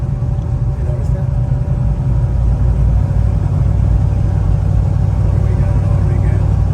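A 1966 Chevrolet Chevelle with a 502 V8 is on the move, its deep, steady engine rumble and road drone heard close and constant from start to finish.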